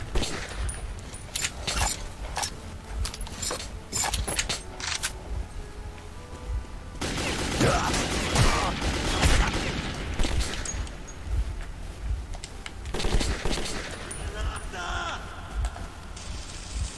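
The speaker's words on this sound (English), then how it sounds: "I can really only see them when they're shooting at me." Gunfire from enemies in the video game Metro 2033, repeated sharp shots and bursts of rapid automatic fire throughout, loud and cluttered with game effects and noise.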